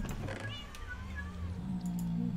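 A cat meows in the Minecraft video game, a few short cries over a steady game background hum.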